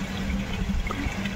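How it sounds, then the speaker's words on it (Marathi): A metal water pot (handa) fills from a village water source. Close, steady rushing and splashing of water runs throughout the brief moment, with no voices. "इथं हांडा भरायला चालू आहे तिथं."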